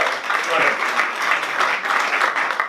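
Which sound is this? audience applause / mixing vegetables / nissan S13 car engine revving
audience applause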